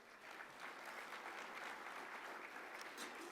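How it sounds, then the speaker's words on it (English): A large audience claps steadily and densely through the whole stretch at a business economic forecast event, applause holding at an even level while sponsors including Tacoma Public Utilities are thanked. "You're gonna have to keep clapping here a little bit."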